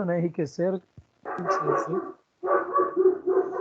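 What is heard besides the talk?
dog barking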